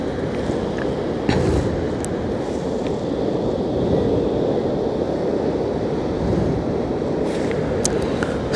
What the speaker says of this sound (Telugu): అలలు దాన్ని కొట్టి ఆ షిప్ పైకి ఎలా వస్తున్నాయి అనమాట